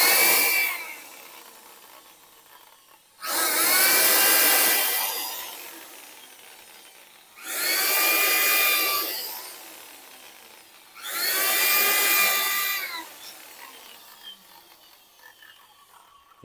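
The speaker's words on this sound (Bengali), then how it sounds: "প্রথমে 1/8-এর বিট দিয়ে হোল করে নিলাম" Holes drilled with a 1/8 drill bit for a kitchen basket fitting, four loud whining bursts of a power drill a few seconds apart, each rising and falling, close with quiet gaps between.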